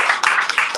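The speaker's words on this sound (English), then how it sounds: "Let's have a round of applause for Gerald and team." A brief burst of audience clapping at a meetup, dense and fairly loud, cut short after under a second.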